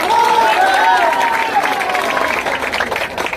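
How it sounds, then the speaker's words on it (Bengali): Loud applause from a crowd for the winning team at a football tournament closing and prize ceremony, steady clapping mixed with some cheering and voices throughout. "সেই জয়ী দলের জন্য একটা জোরে করতালি"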